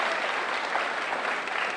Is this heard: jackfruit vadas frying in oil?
no